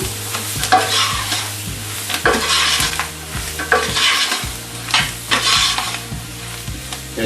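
Vegetables cooking down in a dark roux for Cajun gumbo, loud continuous sizzling with repeated spoon scrapes and stirring strokes against the pot, close and without voices.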